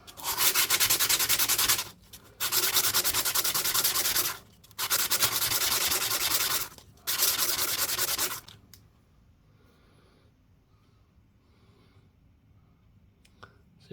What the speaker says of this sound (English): I think I'll just sand this edge again.